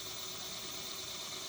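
A SimRig servo drive motor spinning at constant RPM, giving off a steady, even, faint hum that holds unchanged throughout with no other sounds.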